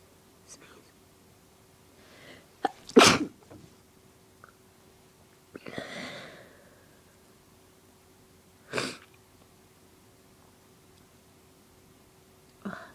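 Repeated allergy sneezes, set off on purpose, burst out close and loud as three sharp separate explosions spaced a few seconds apart. Soft breathing and faint vocal sounds fill the gaps between them.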